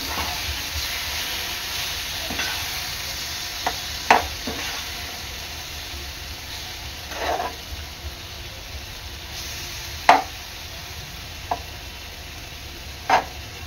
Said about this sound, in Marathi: 3 ते 4 मिनिटांनंतर कोलंबी आपली परतून घ्यायची आहे।